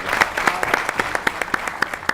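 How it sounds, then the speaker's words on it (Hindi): An audience at a cricket talk-show taping claps in an even, rhythmic beat of distinct, close claps over about two seconds, with no voices on top. "बहुत बड़ी तालियां होनी चाहिए।"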